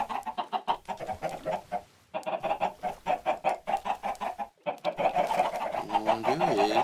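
Chickens in the modded Minecraft game Crazy Craft cluck in quick repeated bursts, fairly loud and close, with brief pauses between runs of clucks.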